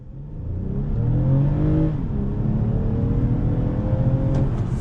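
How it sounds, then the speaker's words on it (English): Toyota Camry XSE V6 in sport mode pulling away from a dead stop, its engine note rising steadily and loudly in pitch, close up and continuous, with no talk. "So we're gonna do an on throttle from a dead stop."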